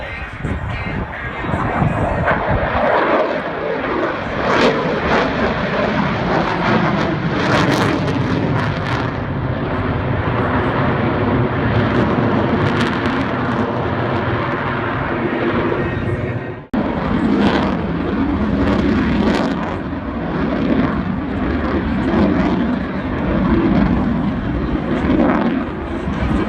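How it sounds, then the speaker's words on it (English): Loud, sustained roar of a Lockheed F-22 Raptor's two F119 jet engines during a power loop at an airshow, rumbling steadily with a brief dip midway before surging again, with faint talk underneath. "Thrust of the two powerful F-119 engines, which literally flip the aircraft through the vertical and back to level flight."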